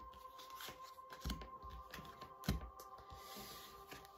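Tarot cards are shuffled by hand for a reading, a quiet close riffling and sliding with a few soft taps as the deck is squared, over a faint steady background hum.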